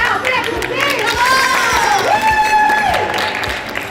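Group at an icebreaker guessing game applauding and cheering, with children's voices shouting and calling over steady clapping, loud and lively throughout.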